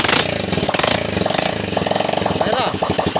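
An engine idles after a cylinder head repair, with a loud, close, steady rapid firing rhythm throughout and voices talking over it.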